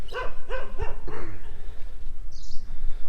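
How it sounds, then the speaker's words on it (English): A few sharp dog barks in quick succession near the start, then quieter background noise with a faint high chirp later. "Dogs are very annoying. बार बार भौंक रहा है."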